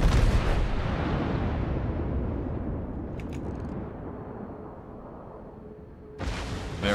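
Heavy battleship main guns firing in World of Warships from an Iowa-class battleship, with a loud booming blast opening the clip, a long rumbling decay, then another sharp broadband blast near the end.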